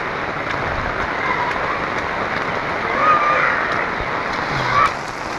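Heavy rain pours steadily during a flood, a dense continuous hiss of water on surfaces with a few louder swells of splashing, close and unbroken throughout.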